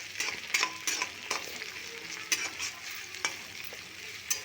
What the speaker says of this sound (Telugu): వేగింది కదా పచ్చిమిర్చి, ఉల్లిపాయ